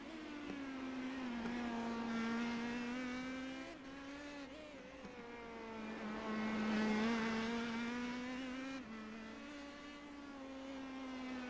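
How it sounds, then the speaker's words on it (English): Race car engine from the Indy Pro 2000 series in the iRacing video game, a loud sustained whine rising and falling through gear changes over about eleven seconds, with no talk. "As race leader Sanders makes his way through that complex out, now exiting turn number 11"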